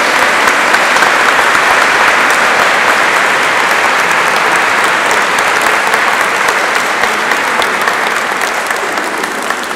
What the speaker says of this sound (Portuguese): Dá salva de palmas ao coração.